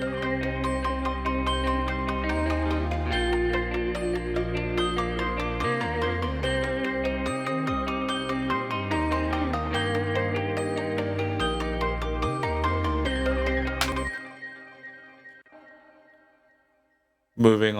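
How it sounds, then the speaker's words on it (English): Layered synth melodies, a dense chord bed over deep pulsing bass, play together for about fourteen seconds, then stop abruptly and leave a fading reverb tail before a brief loud burst at the end. "So all of the melodics together sounds a bit like this."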